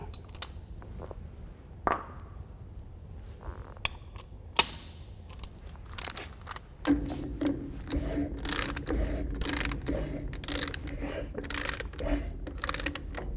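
A ratchet socket wrench turns a trailer axle cap during wheel end maintenance: scattered metallic clicks and clinks at first, then faster, denser ratcheting in the second half.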